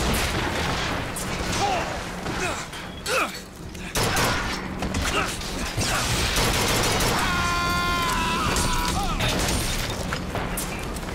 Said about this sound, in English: Oh god, you have a rocket launcher.